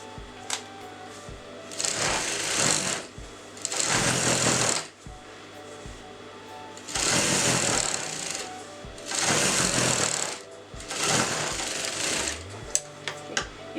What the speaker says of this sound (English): now you're going to sew all the way down like this